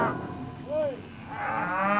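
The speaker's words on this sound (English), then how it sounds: "Yarding cattle is a dangerous business." Cattle being yarded in the Australian outback low and moo in a herd, with overlapping bellows at moderate distance and a constant shuffling background.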